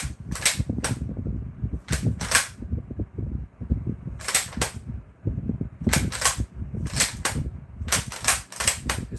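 A 1938 Mauser bolt-action rifle fires a string of crisp, snapping shots, about nine, some in quick pairs, close and punchy over a steady low rumble of mechanical noise.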